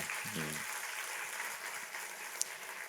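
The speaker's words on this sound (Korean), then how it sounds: "격려의 박수 한번 해주시면 좋겠습니다." A church congregation applauds during a Sunday morning worship service, a soft, distant, steady wash of clapping heard alone at low level, with a short voice-like murmur near the start.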